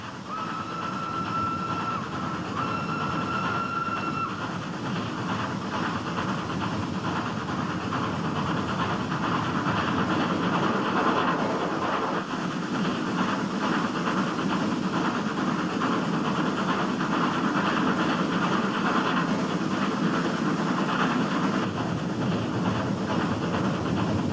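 A mountain rack railway train rumbles and clatters continuously, its cog wheels gripping a rack between the rails on a steep descent, a steady mechanical roar with occasional squealing tones early on.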